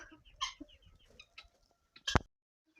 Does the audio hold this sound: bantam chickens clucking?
yes